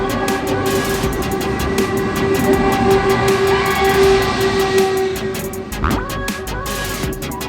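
Inside a KTX train bound for Busan, a steady hum of running carries a sustained tonal whine, with a brief rising tone partway through and no talking.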